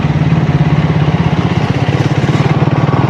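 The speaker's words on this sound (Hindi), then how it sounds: "ड्यूअल बैरल एग्जॉस्ट का जो साउंड है थोड़ा सा बेसी आ रहा है" Triumph Tracker 400 motorcycle with a dual barrel exhaust, its engine running with a steady, loud, bassy throb and rapid regular pulses close by, no voices.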